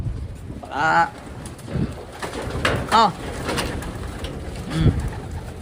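Pigeons coo softly in low, rolling calls as they are fed, amid a constant rustling background, with a few bird calls rising above the bustle.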